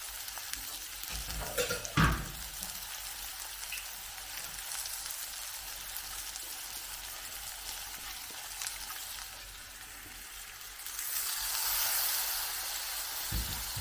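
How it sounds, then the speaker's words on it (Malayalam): Water hisses and sizzles in a hot frying pan just washed, with a sharp burst early on and a rising crackle near the end, fairly quiet overall. "നമുക്ക് ഈ ചട്ടി ഒന്ന് കഴുകി കുറച്ച് വെള്ളം ഒഴിച്ചു കൊടുക്കാം"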